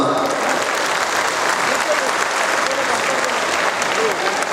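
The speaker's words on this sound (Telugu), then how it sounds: "ఇక్కడ కూర్చున్నటువంటి మాతృదేవతలకు అందరికీ ఒకసారి గట్టిగా చప్పట్లు కొట్టండమ్మా." A seated crowd of devotees at an Ayyappa Maha Padi Puja in Kolluru claps loudly and continuously, a dense even wash of applause held at full strength throughout.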